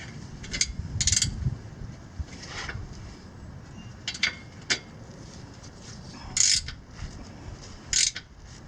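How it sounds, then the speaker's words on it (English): Ratchet wrench tightening differential bolts during a 4-bolt limited-slip differential install on a Galant VR4, with short bursts of clicking spread irregularly over a low, steady background. "We'll go tighten this one a little more."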